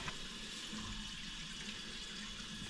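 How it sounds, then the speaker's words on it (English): Water drains from the expansion vessel and plate heat exchanger of a Baxi Main Eco 30 combi boiler, a steady, faint trickling and running flow that continues without a break and has no voices over it. "So let all the water come out from the expansion vessel and all the heat exchanger"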